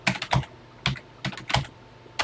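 Keystrokes on an old home computer keyboard while entering a TI BASIC type-in program, a quick irregular burst of crisp clicks in small clusters, close and clear with no talking.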